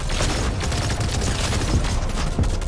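Dense, rumbling explosive blasts from frag grenades in a first-person shooter video game, continuous and heavy for the whole stretch, with no voices audible.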